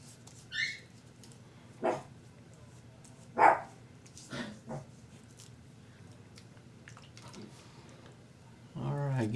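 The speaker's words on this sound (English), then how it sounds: "Sounds like one of the puppies are getting a little excited." An excited puppy gives a few short, scattered yips and barks at moderate distance over a quiet room hum, followed by a brief louder burst at the end.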